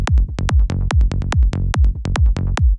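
A Serum psytrance bass patch with stereo spread saturation pumps out a fast, rolling run of punchy, buzzy notes, loud and alone with no talk.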